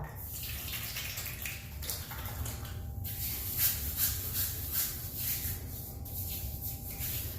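Water splashes and trickles close by in a steady wash with a few louder splashes, with no voices, as soaking water from shaving soap is splashed on a face before shaving.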